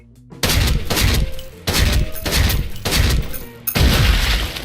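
An HK417 mod2 rifle with an EOTech sight fires in Special Force 2: four loud, close bursts of rapid automatic shots with short silent gaps between them.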